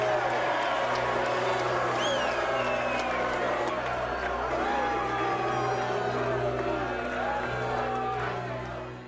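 A boxing crowd at the Eubank vs Benn III title fight roars and cheers continuously, a dense sustained wall of voices with whoops and shouts rising above the din, with no break throughout.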